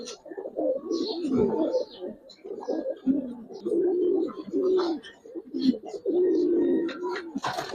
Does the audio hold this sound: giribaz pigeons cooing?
yes